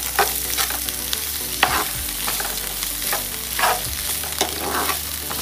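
Onions sautéing in a pan crackle and sizzle loudly and continuously, with stirring scrapes and soft clinks on top of the steady frying, and no voices.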